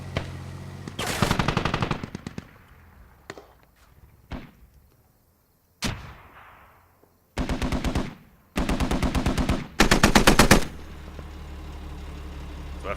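Video game gunfire peppering vehicle windows in a competitive match, loud bursts of rapid automatic fire alternating with single sharp shots, metallic clanks and short gaps of near silence.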